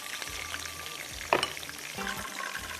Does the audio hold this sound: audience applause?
no